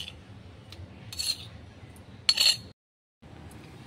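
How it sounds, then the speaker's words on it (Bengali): A spoon scraping ground green chili paste from a grinding surface, making a couple of brief metallic clinks and scrapes over a faint background, followed by a short silence. "একটা চামচের সাহায্যে আমি লঙ্কা বাটাটা তুলে নিচ্ছি।"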